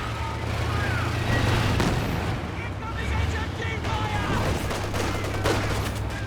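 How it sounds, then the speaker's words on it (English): Heavy machine gun fire in the World War II strategy game Company of Heroes 2, rapid rattling bursts mixed with booming battlefield explosions in a continuous, dense combat din. "Jackson just firing against these Panzer Fusiliers unsuccessfully."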